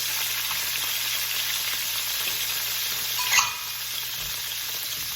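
Garlic and preserved fermented bean curd sizzling in hot oil in a wok for a stir fry of A-Choy lettuce, a steady even hiss throughout with one brief clink partway through.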